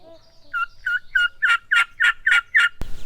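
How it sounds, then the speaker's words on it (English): Wild turkey gobbling far off on public land, a run of about eight rapid rattling gobble notes that swell and hold steady, distant but clear over a quiet background. "we can definitely hear what sounds like a bird gobbling, but it's pretty far off"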